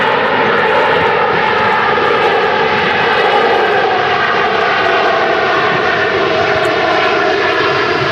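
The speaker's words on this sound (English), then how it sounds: "There you go, Air Transat A321 Neo." An Air Transat Airbus A321neo lands in strong crosswinds at Manchester Airport during a storm, its engines roaring in a loud, steady drone mixed with wind rush throughout. No one speaks.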